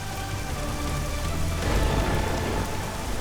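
Steady rain pours down outdoors, a dense continuous hiss of falling water with a slight swell midway, heard alone without voices.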